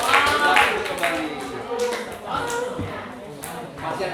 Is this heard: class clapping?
yes